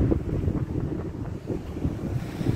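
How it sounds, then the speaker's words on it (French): Wind buffeting a microphone while cycling toward Barcelona, a steady low roaring rumble with gusty swells throughout and no voices. "aujourd'hui il y a un peu de vent"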